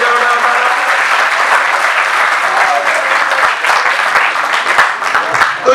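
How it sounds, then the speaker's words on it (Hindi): An audience at a Hindi stand-up comedy show at MNIT claps steadily for several seconds. The dense, continuous applause is loud and close throughout. "ताली बजाओ यार"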